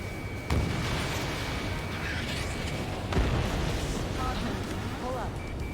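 A jet-fighter missile launch in Ace Combat, a sudden loud whoosh and blast followed by a second burst a few seconds later, over a continuous engine roar with radio chatter around it.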